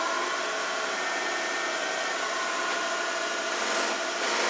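Buffing wheels on a lathe, run up to about 1500 RPM, make a steady, even whirring hum that stays constant and uninterrupted, with no voices.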